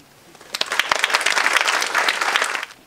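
Audience applause at the opening lecture of Brain Awareness Week, a burst of many hands clapping that swells quickly, holds loud and close for a couple of seconds, then fades.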